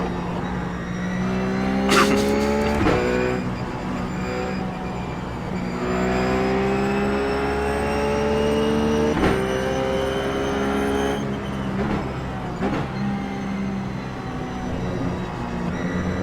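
A Ruf GT3 race car at Watkins Glen in iRacing revs loudly through rising gear pulls, with sharp shift breaks and repeated climbs in pitch, close and sustained.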